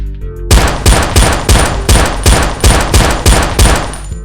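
Rapid, loud series of about nine gunshots at an even rhythm, each a sharp crack with a booming tail, from the zombie game Schizomania; no talking.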